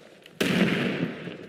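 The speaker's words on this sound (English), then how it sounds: "What's that? Explosion." A sudden, loud explosion in the tactical shooter game Squad, hitting hard and then rolling on as a broad, noisy rumble that slowly fades.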